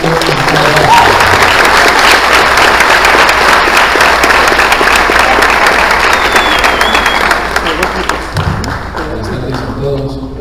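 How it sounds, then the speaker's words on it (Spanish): An audience applauds a guest speaker at a poetry event, full dense clapping for about eight seconds that then thins out and tapers off as the room quiets, with a few faint murmurs near the end. "Un fuerte aplauso para nuestro invitado."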